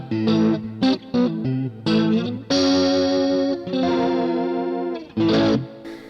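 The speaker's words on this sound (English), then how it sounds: "this is my, how do you call it? Leslie sound. Simulator" Boss MS3 guitar pedal running a Leslie rotary-speaker simulation on electric guitar, with swirling, wavering chords and sustained notes played in short phrases and longer held strums, loud and alone.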